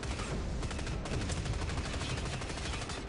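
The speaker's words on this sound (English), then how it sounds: "rather fine use of a forge gun in Arena 1, trying to take out one of the tanks there" A forge gun fires at a tank in the Dust 514 shooter at a fanfest finals match, heard as a dense, continuous barrage of loud gunfire and blasts filling the whole stretch.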